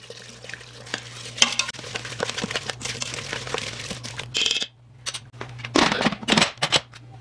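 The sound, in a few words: stirring apple pie oatmeal ingredients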